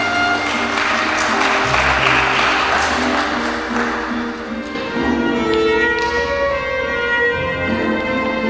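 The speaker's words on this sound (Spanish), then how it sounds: "Aplauso para Gabriel en este día." Steady applause from a crowd at a quinceañera Mass, clapping continuously for several seconds with a reverberant, hall-like quality.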